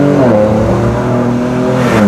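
A 2023 Ford Ranger Raptor's engine revs loudly and close up, a steady, throaty drone with rising and falling harmonic tones over two seconds and no talk.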